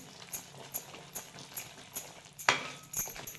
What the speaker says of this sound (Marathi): आता गुळाचा पाक करते आपले चांगला आता पाक होता आला बघू शकता